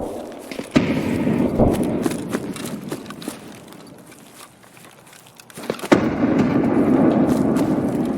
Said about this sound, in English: and I heard this shotgun